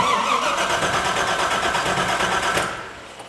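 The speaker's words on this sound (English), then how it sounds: "We're going to go ahead and turn the engine over a couple of times." The 454 engine in a 1958 Corvette cranks over on the starter during a compression test, a fast, even, rhythmic churning heard up close that stops abruptly near the end.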